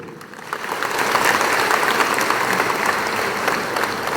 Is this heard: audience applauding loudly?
yes